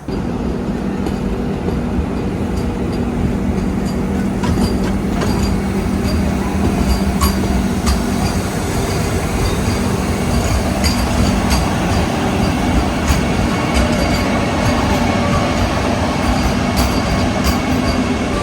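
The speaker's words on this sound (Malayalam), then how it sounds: "ഇത് ചെറിയ വന്ദേ ഭാരതാണ്, 8 കോച്ച് മാത്രമുള്ള വന്ദേ ഭാരതാണ്." A short eight-coach Vande Bharat express runs through Ratnagiri station with a loud, unbroken rumble of wheels and carriages, faint wheel squeal and clatter over it, lasting throughout with no voices.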